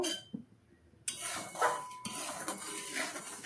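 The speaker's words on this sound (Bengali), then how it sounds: "1 বাটি সুজি দিয়ে দিলাম, তেজপাতাটা ওর সঙ্গে দিয়ে ভেজে নেব।" Semolina with a bay leaf is fried in oil in a slightly burnt wok, with scraping and stirring noises and a faint sizzle that start after a quiet opening second.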